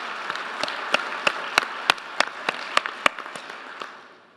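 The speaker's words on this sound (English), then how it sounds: "So let me just have a round of applause for our board and all the hard work that they do." Audience applause in a conference hall at the opening plenary of a fuel cell and energy event, a steady wash of many hands clapping with sharper individual claps standing out, fading away near the end.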